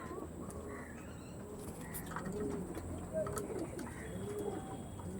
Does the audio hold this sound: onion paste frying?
no